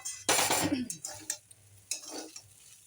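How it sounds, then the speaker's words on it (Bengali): Fried peanuts are poured into a pan of chire pulao, a flattened-rice dish, then stirred, producing a rattling rush followed by lighter scraping and clinking of a spoon. "এবারে আমি যে ভেজে রাখা বাদাম বাদামগুলো ঢেলে দেব"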